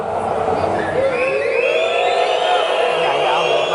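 Crowd at an education debate session in a plenary hall booing and shouting loudly on request, a dense steady roar of voices with rising jeers throughout.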